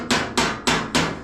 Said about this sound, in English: I'm now stuck with a hammer and dolly